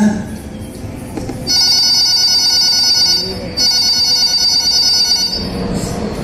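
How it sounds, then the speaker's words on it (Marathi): A telephone rings loudly and close by in two long, trilling bursts separated by a short pause, with faint room noise around it. "अरे कातर मातशें फोन घे"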